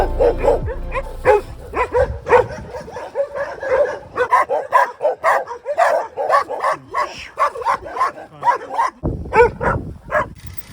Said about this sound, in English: That was a nice afternoon spent with some dogs.